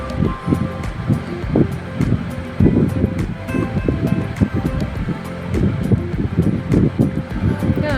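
A mixer grinder blends green chilies with water into a fine paste, giving a loud, close, rough churning roar that surges in uneven pulses throughout.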